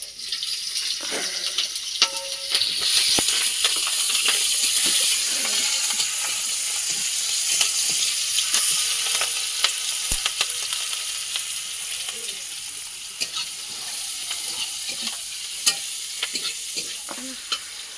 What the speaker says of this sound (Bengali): কড়াই দিয়ে দিচ্ছি পাঁচ ফোড়ন কাঁচা লঙ্কার পেঁয়াজ